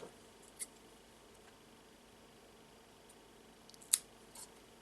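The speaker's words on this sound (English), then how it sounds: "I will simply cut the ends of this cord." Scissors snipping the ends of macrame cord, two brief sharp cuts a few seconds apart, close and quiet against a faint background hiss.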